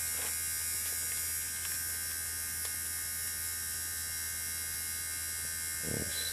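An electric motor in a battery charging setup runs with split battery banks, giving a steady, quiet electrical hum with a high buzzing whine, brief faint clicks, and a soft thump near the end.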